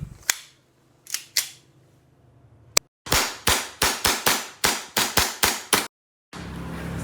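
A fixed-barrel airsoft pistol fires a few scattered single shots, then a fast run of about a dozen sharp, close, loud cracks in quick succession, followed by a brief steady hiss.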